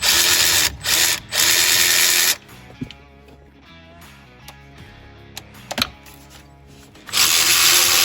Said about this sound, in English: Using a 1/2-inch socket and the battery-powered ratchet, George unscrewed and removed the 6 bolts from the base of the transmission tower.